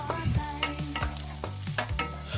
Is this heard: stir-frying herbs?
yes